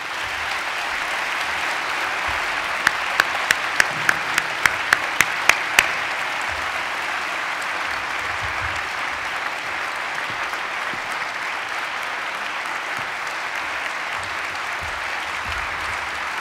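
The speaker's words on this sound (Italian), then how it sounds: "unitevi a me nel tributargli un caloroso applauso di benvenuto" Warm welcoming applause rolls through a university hall at an academic year inauguration, a sustained even wash of many hands clapping, with a few sharp louder claps near the start.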